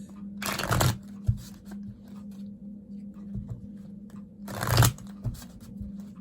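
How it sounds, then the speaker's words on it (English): Two quick bursts of tarot cards being riffled and shuffled, a few seconds apart, with soft taps and handling between them; close, no speech. "I'll give you 2 more shuffles."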